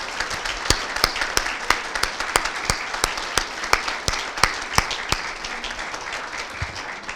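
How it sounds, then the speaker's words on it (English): An audience applauds, a steady wash of clapping with sharp individual claps standing out, sustained at moderate volume with no talking over it. "I think you deserve a round of applause too"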